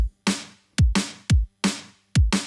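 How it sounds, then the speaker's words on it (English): A punchy drum groove alternating deep booming kicks and bright cracking snares in a fast, syncopated pattern, loud and dry with no other instruments. "So the groove of just the kick and snare sounds like this."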